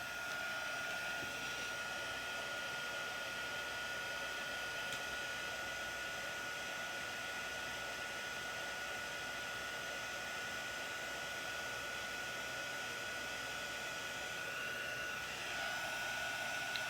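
A heat gun blows steadily on a model part in a garage workshop, a continuous close airy roar with a faint whine, holding even for the whole stretch.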